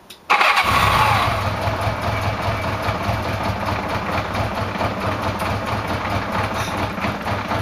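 Honda GL1100 motorcycle engine catching on the starter with a sudden burst, then settling into a steady, close idle rumble that continues to the end.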